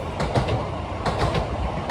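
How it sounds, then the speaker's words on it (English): A Koleje Dolnośląskie passenger train rolls past outdoors, its wheels giving a steady, loud clickety-clack rhythm over a continuous rumble with no voices. "oh, there's a train"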